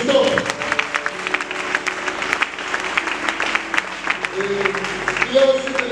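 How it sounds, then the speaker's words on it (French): Church congregation applauding a visiting bishop during a festive evening service, steady clapping from a crowd throughout, with voices talking over it. "Nous acclamons pour le bishop."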